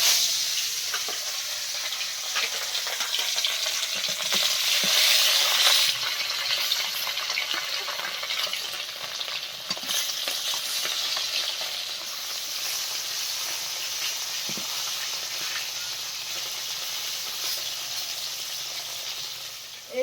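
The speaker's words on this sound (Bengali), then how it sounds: "এবার মাছগুলো ভেজে নেব" Fish fries in a pan over a lit clay stove at a forest-edge home, a steady bright sizzle and crackle running throughout with occasional sharper pops, close and moderately loud, no voices.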